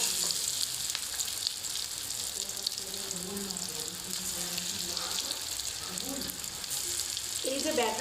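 Chicken pieces frying in a pan for chili chicken, giving a steady, continuous sizzle close by that holds even throughout.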